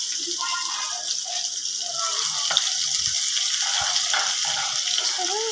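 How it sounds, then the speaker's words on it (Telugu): Ginger garlic paste sizzles steadily in a large pan of hot oil just off the stove while prawn pickle is made, a continuous close frying hiss with small crackles and no talk. "స్టవ్ ఆఫ్ చేసిన తర్వాత అల్లం చిన్నులపాయ వేయండి"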